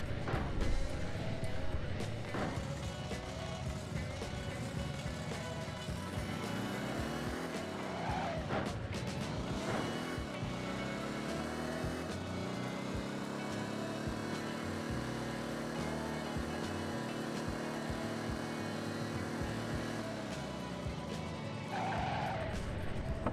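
Driving-game sounds from the PlayStation title Driver 2: a steady car engine drone with tire squeals and a collision with a train midway, loud and continuous, with a faint voice underneath.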